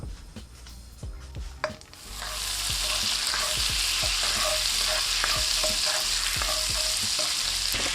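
Knobs of butter melting in a pan over medium-low heat, a few clicks and stirs before a steady, loud sizzle takes over and runs continuously.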